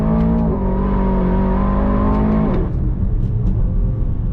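A 2023 Aston Martin DBX 707 luxury SUV engine pulling hard in second gear from about 4,500 RPM on throttle, a loud, close, rising droning roar that shifts tone and drops partway through, with no one talking.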